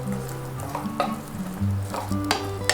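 Potatoes fry in a pan for mutton curry, with a steady sizzle broken by scraping stirs and clinks close by.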